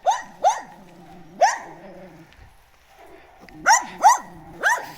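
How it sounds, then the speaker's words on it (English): A dog in Spain barks in sharp bursts with low growls between them, fairly close, the barks clustered at the start and end with a quieter growling gap. "Dogs here in Spain just take themselves for walks."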